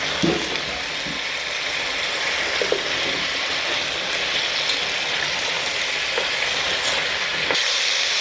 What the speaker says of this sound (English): And you go ahead and stir up your potatoes.